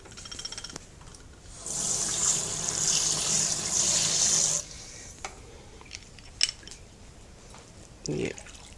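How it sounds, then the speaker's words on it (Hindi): Water runs from a kitchen tap into a pot for rinsing while chilli and garlic paste are being cooked, a steady hissing gush of about three seconds amid light clinks and a brief splash, with someone speaking. "इसको मैं रिंस करके पानी डालती हूँ।"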